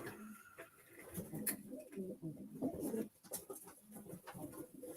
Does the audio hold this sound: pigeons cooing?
yes